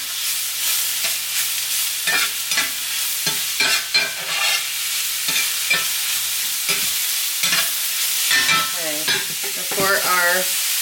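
Mushrooms frying in olive oil in a pan give a bright, close sizzle punctuated by repeated scraping and knocking strokes of stirring, a low hum early on, no talk.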